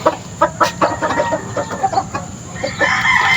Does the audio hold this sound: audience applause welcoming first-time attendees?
no